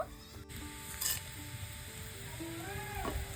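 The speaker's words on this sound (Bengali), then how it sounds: "তেলে কিছু গোটা মশলা ফোড়ন দিয়ে দেব" Whole spices temper in hot oil for a mutton curry, giving a soft, steady sizzle with a few faint pan and utensil clinks, quiet and close with no voices.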